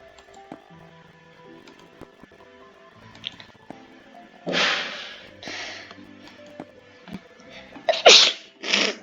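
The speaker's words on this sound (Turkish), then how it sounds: "Hapşırdım." A sharp, close sneeze bursts out, followed a few seconds later by a louder second sneeze, with quiet clicks and faint background noise between, during Roblox Sky Block gameplay.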